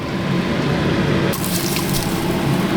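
Homemade chicken stock pours into a pot of brandy-deglazed caramelized onions for French onion soup, a sudden loud rushing splash that starts partway through and continues steadily after a stretch of low kitchen noise.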